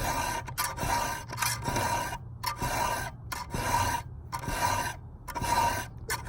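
A hand file rasping across a chainsaw chain on the job, the arm braced on the bar, in repeated steady strokes with short pauses between them, close and moderately loud with no talking.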